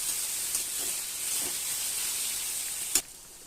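Spice paste with onion and garlic frying in a pan, giving a steady soft sizzle and hiss with a few faint clicks and one brief sharp tick near the end, with no voices.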